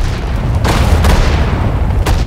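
Deep booming artillery cannon shots from the strategy game Sudden Strike 4, a couple of heavy reports rolling into each other with loud, sustained rumble throughout.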